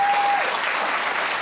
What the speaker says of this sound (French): avec un tonnerre d'applaudissements